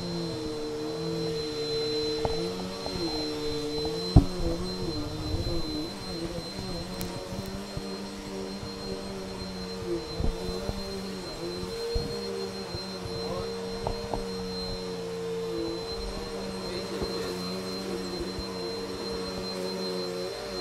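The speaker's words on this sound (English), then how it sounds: "Let me vacuum some of that so you don't get hair all over your bed." A household vacuum cleaner runs steadily nearby, a continuous droning hum with a high whine, clearing hair off a bed, with occasional faint knocks as it moves.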